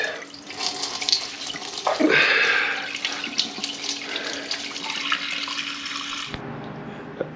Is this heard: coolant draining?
yes